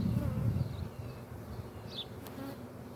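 Honey bees buzz steadily at an open hive, a dense close drone with individual bees passing near, continuous and fairly loud throughout.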